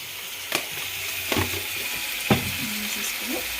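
Spicy Telangana-style chicken fry is stirred in a pan, giving a steady sizzle with a few scraping strokes of the spoon close by and no talking.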